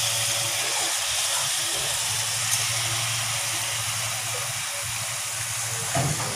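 Beef meat added to hot oil with fried onions in a pot while cooking a Bengali red beef bhuna, giving a steady, loud, even sizzling hiss that carries on throughout with faint clinks near the end.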